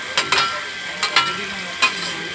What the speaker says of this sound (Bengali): সবগুলো দেওয়ার পর ভালো মতন নাড়াচাড়া করে মিক্স করে নেব।